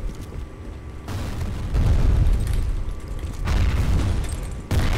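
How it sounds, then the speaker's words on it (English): Repeated deep booming explosions in a grenade-only match on the Refinery map, rumbling blasts swelling and fading in succession, loud with no talking. "Why is there so many explosions in here?"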